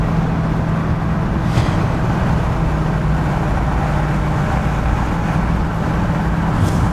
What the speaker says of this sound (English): Just tipping into the throttle.